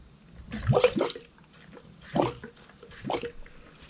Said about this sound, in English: It's definitely bubbling down in there.